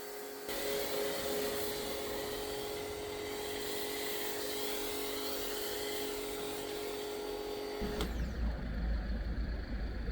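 A snow foam lance sprays foam over a car during an exterior wash in a garage: a steady, loud pressurized hiss with a faint mechanical hum that lasts throughout, its tone shifting abruptly near the end, with no voices.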